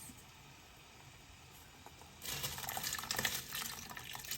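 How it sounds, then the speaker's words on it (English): Salted water in a pot bubbles and churns, quiet at first, then a louder rushing, gurgling burst takes over for the last couple of seconds. "Now the salted water is boiling, so we're gonna add the rice."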